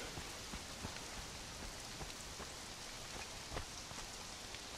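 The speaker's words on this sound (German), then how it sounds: "Es regnet auch noch." Steady rain in the video game Conan Exiles patters densely and evenly, with occasional louder drops standing out, and no voices.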